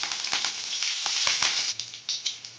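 Cumin, mustard seeds and green chilli sizzling in hot oil for bhindi masala bhaji, a bright steady hiss with sharp crackles and pops scattered through it, close and fairly soft.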